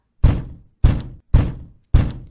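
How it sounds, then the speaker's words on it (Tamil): Four firm, evenly spaced knocks on a house door, loud and close, each a hollow thud with a short decay, and no voices between them. "முதலாளி அம்மாவோட வீட்டுக்கு போய் கதவை தட்டுறா"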